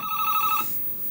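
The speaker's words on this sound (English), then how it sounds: "the clock is ringing" Alarm clock ringing in the Commodore Plus/4 game Lykia, a bright electronic ringing tone pulsing rapidly for about half a second, then cutting off, alone with no talk.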